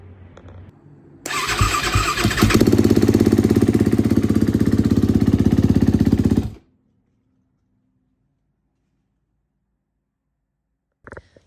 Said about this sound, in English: that last video of the bike starting up is basically telling me that it could be an exhaust valve because it doesn't sound normal